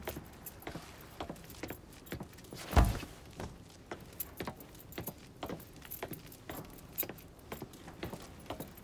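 Keys jangling in the video game Mafia III, a bright repeated metallic rattle close by with one sharp louder clink, set against quiet background noise and no talk.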